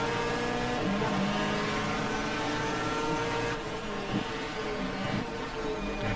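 A 1994 GTR2 race car at Winton downshifting to second gear, a loud continuous engine roar with shifting pitch as it slows, heard alone without commentary.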